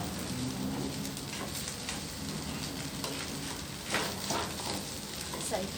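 Pork stir-fried with oyster sauce in a pan, a loud continuous sizzle and crackle of frying with spatula scrapes and stirring clatter, close up, with no voice over it.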